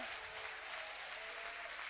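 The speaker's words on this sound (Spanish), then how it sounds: "dale un fuerte aplauso, pero que sea más fuerte que el recién diste" A church congregation claps together in a steady, dense patter that holds evenly for the whole brief moment.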